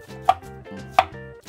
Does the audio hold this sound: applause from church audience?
no